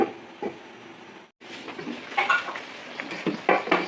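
A lid goes back onto a cooking pot of squid and fish, with a few soft metallic clinks and scrapes up close over faint cooking noise.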